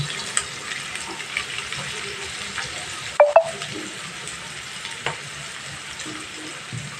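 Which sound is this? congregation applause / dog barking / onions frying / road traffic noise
onions frying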